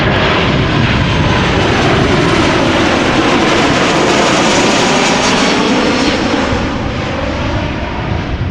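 A Transavia Boeing 737-800 arriving at Amsterdam Schiphol from Nice, its loud, steady jet engine roar filling the air continuously without letup, close and broadband, with no voices over it.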